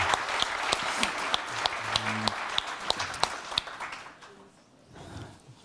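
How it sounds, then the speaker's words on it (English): An audience applauds after a seafood cooking masterclass, a bright crowd of hands clapping loudly for about four seconds before fading to quiet murmuring. "Big round of applause, ladies and gentlemen."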